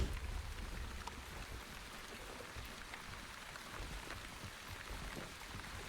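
Light rain in the video game Wandering Village, a soft, steady patter of drops falling throughout, even and continuous with no voices.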